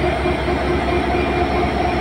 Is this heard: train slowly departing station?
yes